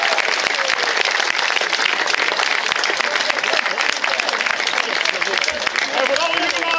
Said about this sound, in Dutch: Mag ik een daverend applaus voor Harry Kunststof?